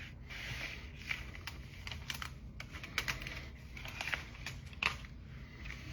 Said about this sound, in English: let's go ahead and we'll do a good old peel reveal